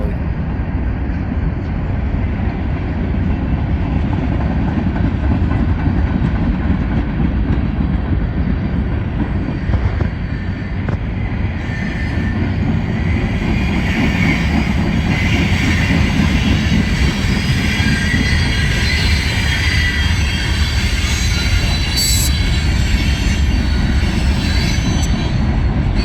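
A freight train with Union Pacific 60-foot high-cube boxcars rolls past at night in southern New York state. Loud, continuous rumbling and rhythmic wheel clatter fill the clip, with high squealing wheels partway through.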